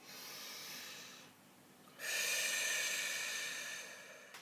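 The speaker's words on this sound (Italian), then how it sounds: "facciamo un bel respiro profondo" A close, quiet deep breath: a drawn-in inhale, a short pause, then a longer and stronger breathy exhale.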